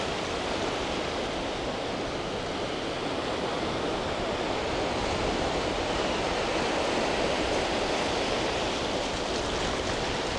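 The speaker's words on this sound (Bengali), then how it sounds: "এই যে পানি, সমুদ্রের ঢেউ," Sea waves wash up on the sand at Patuatek beach, Cox's Bazar, in a continuous, full, close surf rush that never drops away. No one talks.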